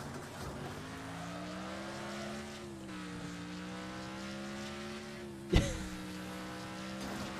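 Engines drone steadily as cars race in Wreckfest, pitch shifting as they run. A single sharp crash impact hits near the end.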